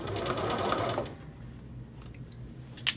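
A sewing machine stitches a hoodie neck facing, running in a steady rapid burst for about a second before stopping, leaving quiet handling noise and a small click at the end.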